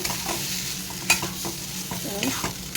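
A shrimp and long bean paste fries in a wok-style pan while being stirred, with a steady sizzle and repeated scraping strokes close by.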